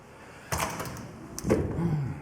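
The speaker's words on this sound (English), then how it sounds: "That's going to be the door." A door closes in a house, a soft thud followed by a second heavier knock and brief rattle, close by with faint room noise around it.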